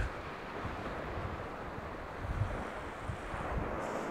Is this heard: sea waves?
yes